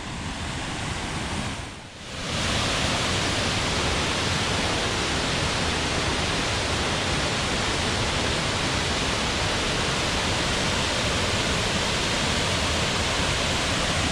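A steep waterfall heard from a nearby lookout produces a loud, steady broadband roar of rushing water, continuous throughout with a brief dip near the start.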